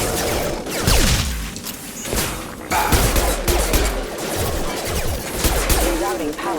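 Rapid sci-fi gunfire from the video game Mass Effect: Legendary Edition, dense bursts of shots and impacts crackling loud and continuous through a chaotic firefight, with game voices calling out amid the shooting.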